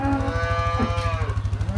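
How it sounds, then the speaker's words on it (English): A cow moos loudly and close by on a New Zealand dairy farm, one long, drawn-out low call over a steady rhythmic mechanical pulsing, likely milking equipment. "Background sound. Oh, the cow?"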